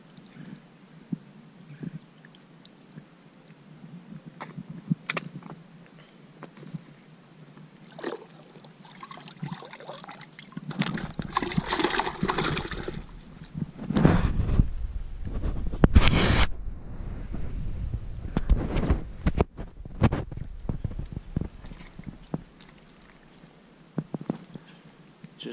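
An Oscar fish thrashing in shallow muddy water, throwing up irregular splashes and sloshing that build to a louder burst midway, with trickling and dripping between the splashes.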